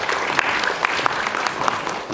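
Audience applause welcomes a mentor to the stage at a Korean youth-employment mentoring concert, a dense, lively burst of many hands clapping with sharp individual claps standing out, and no talk over it.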